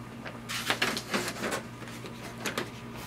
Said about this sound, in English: the first step is to switch on the printer, also load the paper tray